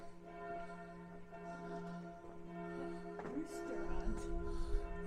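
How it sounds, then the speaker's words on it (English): Church bells ring in a European town, with sustained, layered tones that hold evenly at moderate distance, and low street rumble rises toward the end. "Church bells adds to the ambiance for sure."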